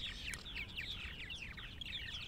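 A flock of purple martins chatters and calls continuously at their martin houses in the evening as they settle for the night, a dense, busy mix of chirps and warbles with no talking.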